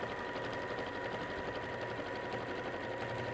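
Domestic sewing machine running steadily in reverse stitch on Liberty floral fabric, a continuous close whirring motor hum with rapid needle clatter throughout, no pauses.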